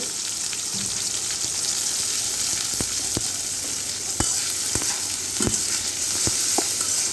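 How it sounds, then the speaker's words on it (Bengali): Chopped onions fry and get stirred in a hot pan with bay leaf, a steady loud sizzle running throughout with occasional sharp clicks of the spatula against the pan. "এখন এগুলো ভালো মতো ভাজা ভাজা করে নিব"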